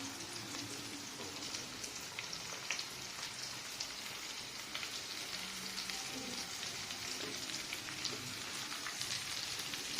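Onion, carrot, green chili and cabbage sautéing in a pan for soybean chili, a dense, constant sizzle like rain on a surface, with faint stirring underneath and no voices.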